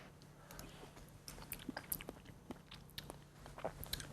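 Someone chewing a mouthful of vegetarian pumpkin risotto with sage and pine nuts, soft close bites and quiet wet mastication repeating irregularly, faint and intimate with no talking.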